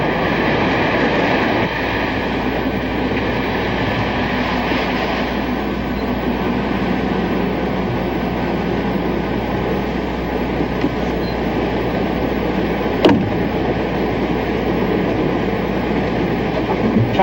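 A train rolls steadily, with rumble and rail noise throughout. A sharp click or clank comes about two-thirds of the way in. No one speaks.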